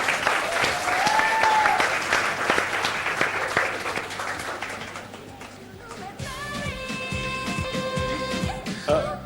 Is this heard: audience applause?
yes